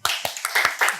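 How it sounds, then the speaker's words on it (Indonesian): Brief applause welcoming a guest on an Indonesian podcast about flowers: a handful of sharp, separate claps in an uneven rhythm, close and fairly loud, with no talking. "Tepuk tangan doang buat Mas Hermawan."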